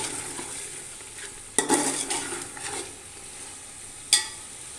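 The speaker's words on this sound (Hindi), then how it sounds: "सब्ज़ मिर्च और अदरक डालकर मैंने उस वक्त तक फ्राई करना है जब तक ये घी अलहदा ना हो जाए" A soft continuous sizzle of green chilies and ginger frying in ghee in a pan, with two sharp scraping stirs of a spoon against the metal.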